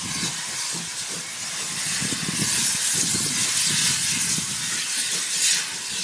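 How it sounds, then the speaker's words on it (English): A steady hiss of venting steam with low rumbling and clanking beneath, the sound swelling slightly as a steam train on the Caledonian Railway begins to move. "The train is moving."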